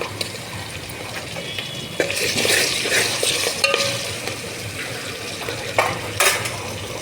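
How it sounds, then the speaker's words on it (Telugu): Onions and green chillies sizzle in hot oil while a spoon stirs and scrapes the pan, with a few sharp metallic knocks. "ఉల్లిపాయలు, పచ్చిమిరపకాయలు తాలింపు పెట్టానండి."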